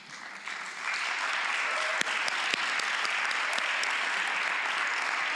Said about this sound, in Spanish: queremos un fuerte aplauso para ellos